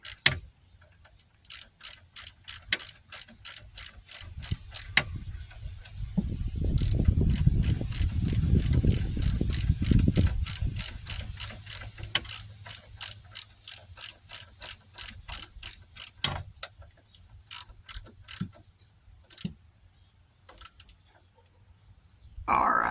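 A ratchet clicks in rapid bursts, spinning a bolt back into the rear wheel hub of a 2006 Dodge Grand Caravan, with a louder rumbling stretch midway and brief pauses between runs of ticking.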